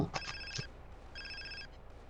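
Telephone ringing in the video game GTA San Andreas, two bursts of a bright trilling ring, moderately loud over a steady low background hum.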